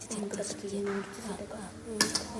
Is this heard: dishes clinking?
yes